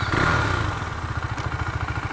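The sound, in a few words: KTM 390 Duke motorcycle engine starting and idling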